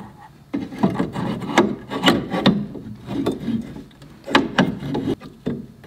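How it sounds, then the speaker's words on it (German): Scraping, rubbing and knocking of a laser module being slid and seated back into an xTool laser engraver, a series of close, uneven rasping pulls and soft bumps with no talking. "Und dann kann ich das Lasermodul auch schon wieder einbauen."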